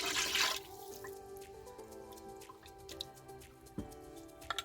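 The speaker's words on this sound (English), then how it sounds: "I'm going to pour my broth right on top" Broth poured over chicken in an Instant Pot with a brief splashing gush, then soft drips and clinks of metal, quiet and close, inside an RV.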